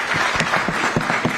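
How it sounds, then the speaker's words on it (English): An audience at an economic summit applauds a departing panel, dense clapping with a few sharper individual claps standing out, sustained and fairly close throughout. "Please, a round of applause for them."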